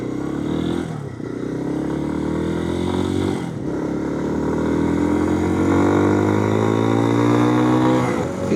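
A KPX250 motorcycle engine drones while riding, loud and close, revving up through gears with rising pitch, brief dips at shifts, and wind noise throughout.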